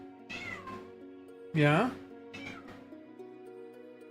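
A pet cat lets out one loud, close meow partway through, with softer mewing nearby and a person speaking briefly around it.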